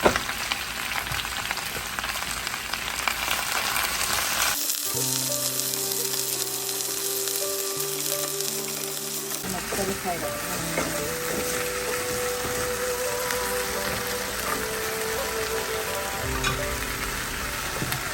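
Bok choy sautés in a hot pan for a home-cooked lunch, giving a steady, close sizzle that flares louder partway through as the greens are stirred, with no voices over it.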